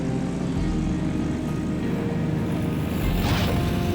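A loud, steady engine and propeller drone fills the cabin of an airplane in flight bound for Yellowknife, holding level throughout with no voices.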